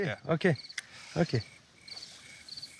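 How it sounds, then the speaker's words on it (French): Frogs croaking at night in Louisiana, including bullfrogs, a chorus of short, repeated high chirps held faint in the background after a person briefly speaks. "c'est le chant des grenouilles"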